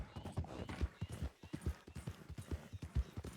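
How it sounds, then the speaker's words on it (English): Horse hooves clip-clop in a steady, brisk rhythm as a rider travels in the WildRP video game, the hoofbeats close and clear throughout. "This is nicely riding though, horsey."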